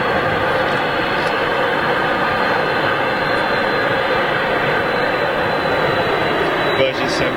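Boeing 747 jet engines throttling up at Manchester Airport, a loud steady broadband roar that holds throughout with a faint rising tone near the end, heard close and continuous.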